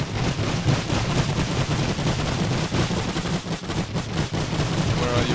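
Dense, continuous gunfire and rifle volleys from a World War I strategy game set among Austro-Hungarian forces, with overlapping rapid shots and distant booms filling the mix throughout.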